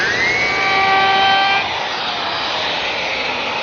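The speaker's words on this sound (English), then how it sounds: "To smooth up the cut left by the bandsaw, I'm using my belt sander, just taking the line away." A belt sander smooths a bandsawn edge on a wooden tabletop, giving a loud steady whine with a bright tonal ring that changes once the sanding pressure eases, after which the motor keeps running at a lower level.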